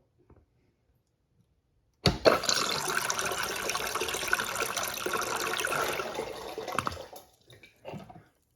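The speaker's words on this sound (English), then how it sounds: "Okay, so here we go with full tank of water, flush number 4." A Space Saver toilet flushed from a full tank: after silence, a sudden loud rushing surge of water roars steadily for about five seconds, then drains off into gurgles and a short final splash.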